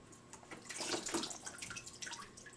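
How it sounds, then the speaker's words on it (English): Water runs from a tap as fiberglass casting tape is soaked, a faint, close splashing trickle with uneven gushes over a couple of seconds. "fiberglass tape, just get it wet real quick."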